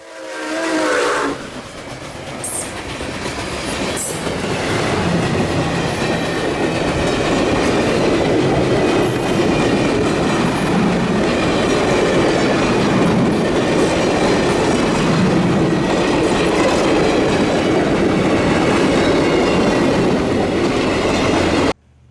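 Nickel Plate Road 765 steam locomotive pulling a passenger train, loud and building as it passes close by, with heavy rumbling, rail clatter and a whistle blast early on.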